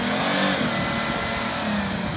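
A 4x4 mud truck engine in two-wheel drive holds a loud, steady revving drone, close and continuous with a rough low rumble and no speech over it.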